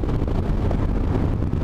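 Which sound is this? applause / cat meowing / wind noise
wind noise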